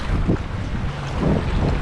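Wind and swell around a fishing kayak near the pilings of a bridge-tunnel in rough water, a steady loud rumble of wind on the microphone with surging watery washes, no talk.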